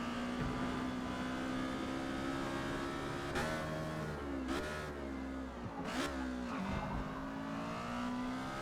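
An Exocet race car laps Laguna Seca in Forza Motorsport, its engine droning steadily at high revs, then dipping and rising through gear changes and braking with brief tire squeals, loud and close throughout.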